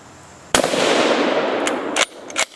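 A bolt-action rifle with a detachable magazine fires one loud, sharp report that rings out for about a second and a half, followed by a couple of fainter distant impacts or echoes.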